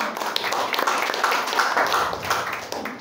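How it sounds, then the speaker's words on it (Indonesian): A church congregation at a Christmas service claps together, a steady mass of handclaps filling the room at moderate loudness with no talk over it. "Kita berikan tepuk tangan untuk Tuhan."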